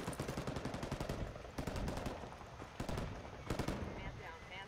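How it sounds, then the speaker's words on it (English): Rapid bursts of gunfire and explosive thuds crackle in Ghost Recon Wildlands as a mortar strike lands on an enemy at a desert outpost, repeated sharp blasts over dense combat noise with voices talking underneath. "Okay, I see that guy. Mortaring him."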